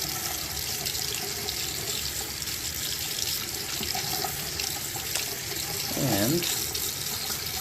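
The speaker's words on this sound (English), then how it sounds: "Turn on the hot water." Hot water runs steadily from a bathroom tap after a tankless water heater has been flushed and descaled, a constant close hiss and splash. A brief low sound and a single spoken word break in near the end.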